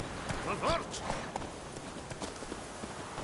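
Horse hooves clip-clopping in The Witcher 3, a steady walking rhythm of light hoofbeats at moderate volume, with a voice speaking over it.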